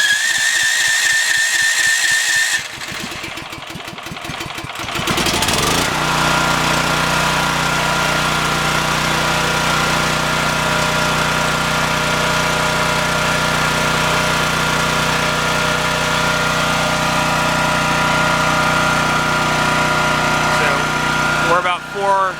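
A Costco dual fuel generator running on propane cranks on its electric starter and then settles into a steady, loud idle with a constant low hum and hiss, heard from a few feet away.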